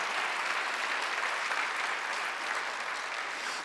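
A church congregation applauds together during a Korean Sunday worship service, a dense, even roar of clapping hands that holds steady for several seconds before cutting off.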